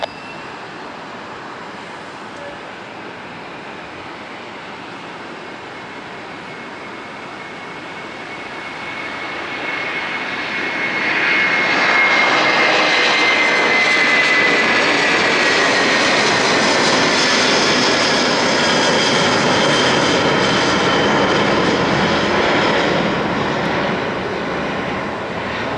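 An Air Berlin Airbus A330-223 spools up its jet engines for takeoff from San Jose, the roar swelling from a steady hiss to a loud, broad rumble with a rising whine that holds near and powerful.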